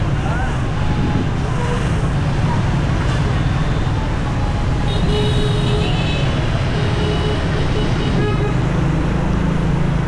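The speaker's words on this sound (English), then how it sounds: "And honestly, I missed this traffic." Busy, chaotic street traffic in Hanoi, Vietnam, makes a dense, continuous roadway roar. Scattered horn toots cut through it, with steady wind noise on the microphone.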